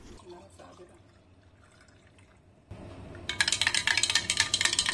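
Water pours into a glass of pineapple crush drink, a bright, splashy stream that starts after a quiet stretch of low kitchen noise and continues loud and close to the end.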